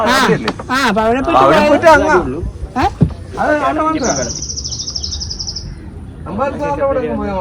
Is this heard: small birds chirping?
yes